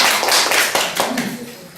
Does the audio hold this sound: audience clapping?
yes